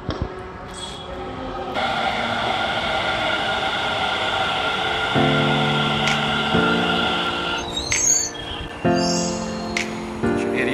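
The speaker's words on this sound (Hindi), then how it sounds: "ट्रेन आ रही है।" Metro train arriving at Okhla Vihar station in Delhi gives a steady, loud rolling rumble with a metallic whine, and sharp tonal bursts rise over it toward the end.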